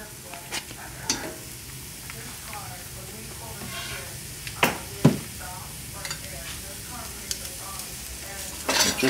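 Shallots and butter sizzling in a pan, a steady frying hiss with occasional stirring scrapes and clinks, close by, with a voice talking faintly over it.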